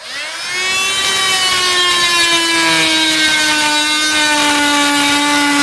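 A power saw bites into half-inch plywood, a loud steady whining buzz that rises in after a brief start and holds evenly without talk.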